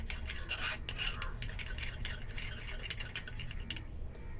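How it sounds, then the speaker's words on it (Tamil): Honey and tomato face mask mixture being stirred in a small bowl, giving soft, quick, repeated scraping and clinking strokes at close range with no talking. "இது நல்லா மிக்ஸ் பண்ணிக்கணும்"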